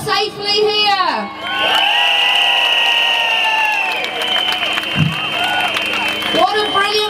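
Parade crowd at Norwich Pride cheering loudly, a sustained wave of shouts and whoops with high-pitched voices rising and falling, close and dense throughout.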